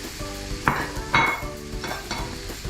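Potato, carrot and beans are stirred into fried masala in a pan for a Kerala-style chicken-veg kurma, with a steady sizzle and several sharp scraping clinks of the spoon against the pan, close up.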